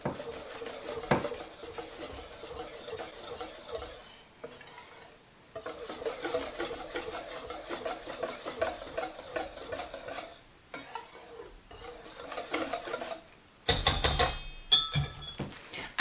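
Bika Ambon batter mixed with cooked coconut milk is stirred in a bowl, a steady wet scraping and swishing that runs throughout, with brief pauses and a few sharper clinks of the utensil near the end.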